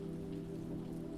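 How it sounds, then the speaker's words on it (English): Gentle rain pattering steadily, a soft even wash of drops heard close and quiet, with a low steady hum beneath it and no voices. "the rain intensifies for a moment, then eases again into a gentle patter"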